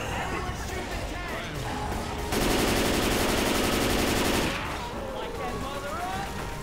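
Left 4 Dead 2 gunfire from bots: a sustained burst of rapid automatic fire lasting about two seconds, rising over background game noise and voices, then stopping.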